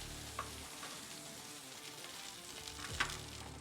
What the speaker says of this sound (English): We'll start grilling the next steak.